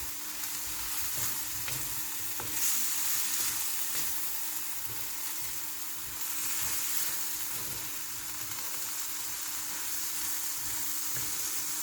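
Pakbet vegetables fry in a pan with pepper, giving a steady, close sizzle with occasional stirring clatter and no talking.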